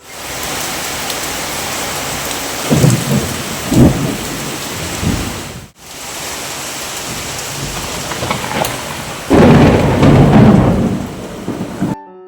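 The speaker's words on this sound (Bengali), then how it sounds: "হঠাৎ করে মেঘ করে খুব জোরে ঝড় বৃষ্টি হচ্ছে বাইরে" Heavy rain pours steadily while thunder rumbles several times, with a louder roll near the end; no voices.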